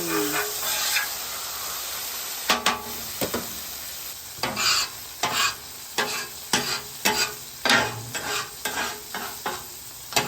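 Breaded chicken fried steak sizzling in hot grease, a steady frying hiss with a run of sharp crackling pops and spatters building toward the end, close and fairly loud with no talking.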